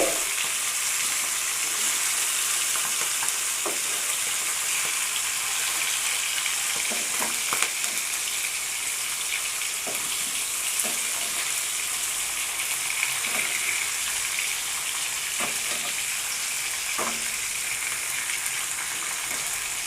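Fish sizzling steadily in hot oil in a pan for mustard fish curry, a constant close frying hiss with occasional faint pops and stirring clicks, no talk.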